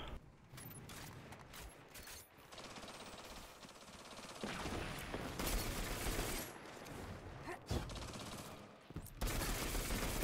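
Gunfire and mechanical clatter from Destiny 2 PvP combat, dense overlapping bursts and sharp cracks that continue throughout at a moderate level, with no talking.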